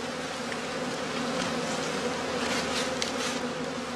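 A weak bee colony in an open straw skep hive gives off a dense, continuous buzzing drone, steady and fairly close, with no talking over it.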